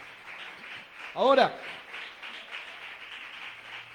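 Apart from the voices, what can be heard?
congregation applause in church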